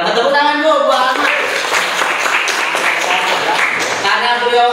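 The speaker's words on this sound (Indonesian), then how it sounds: "Tepuk tangan dulu buat Ahmad." Audience applause for Ahmad at a religious sermon gathering, a dense burst of clapping mixed with voices, steady across the moment.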